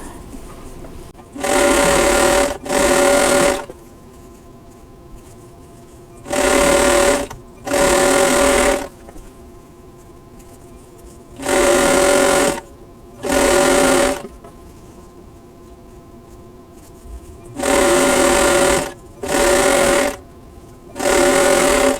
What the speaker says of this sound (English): now I'm going to sew the units together, just nesting my seam